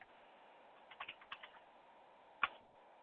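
A handful of soft, quick key taps entering a contact name, clustered in a short burst with one sharper click after a pause, close and quiet against a faint background hiss.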